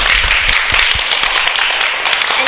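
A lecture audience applauds steadily and loudly throughout, a dense unbroken wash of many hands clapping with no pauses.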